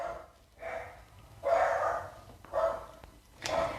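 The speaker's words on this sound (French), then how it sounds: "Super le chien qui aboie, j'espère que vous n'entendez pas trop." A dog barks indoors several times in short, spaced bursts, fairly distant and moderately loud.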